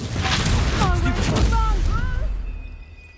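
A Confringo fire spell blast in Hogwarts Legacy, a loud booming burst with crackling magical sweeps and chiming whooshes, dense for about two and a half seconds before trailing off into a thin ringing tone.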